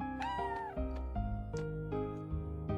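A cat meows in the video game Chrono Cross, several short mewing calls sounding over steady game music rather than alone.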